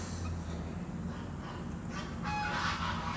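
Faint, distant honking from geese in the area near a home, a cluster of calls rising toward the end over a constant low hum.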